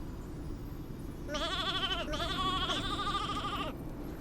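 A sheep in the video game Infinity Nikki gives one long wavering bleat that rises and trembles over a steady soft background hum, clear and alone.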